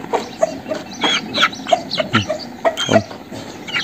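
Repeated clucks and short squawks from a rooster and chickens close by, irregular bursts over a steady farmyard background, no talking.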